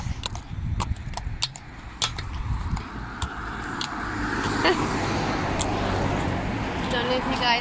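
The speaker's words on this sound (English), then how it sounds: "Here comes a bus." A bus passes on a road near a barn, its broad engine and tyre rumble swelling steadily from moderate to loud and close, with scattered clicks and creaks early on and a person talking over it.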